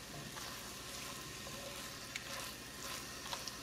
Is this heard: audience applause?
no